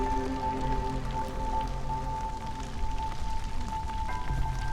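A steady rain storm in the video game Against the Storm patters continuously, a soft even hiss of rainfall mixed under sustained musical tones from the game.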